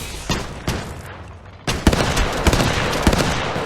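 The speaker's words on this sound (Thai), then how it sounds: "กำลังยิงแล้วกำลังโดนยิงกำลังรีโหลด" Gunfire in the mobile battle-royale game Apex Legends Mobile: loud rapid bursts of shots, a short pause, then a sustained dense exchange of fire, close and continuous, with no talking.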